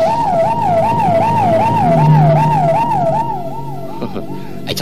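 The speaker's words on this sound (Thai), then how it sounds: "่รถตำรวจมาแล้ว" A police siren wails in rapid rising-and-falling cycles, loud and close, with traffic rumble beneath it.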